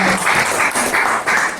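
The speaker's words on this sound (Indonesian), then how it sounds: "Oke, tepuk tangan." Short burst of group clapping at a sales presentation, a dense, close patter of hands in rhythmic pulses lasting under two seconds with no talking over it.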